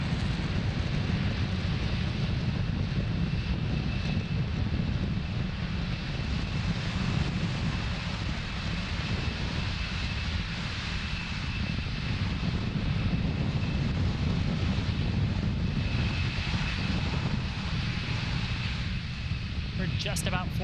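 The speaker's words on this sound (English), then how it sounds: "Falcon 9 clearing the tower at Space Launch Complex 40 and making its way to orbit" Falcon 9 rocket launch from Space Launch Complex 40, Cape Canaveral, Florida: a steady, broad low roar from the Merlin 1D engines rumbles continuously throughout, distant and wind-buffeted, with no voices in the clip.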